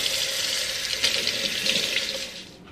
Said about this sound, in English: So I'm just going to rinse these potatoes, scrub them a little bit